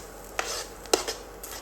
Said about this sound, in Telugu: తీసేసి బౌల్లో పెట్టుకుందాం.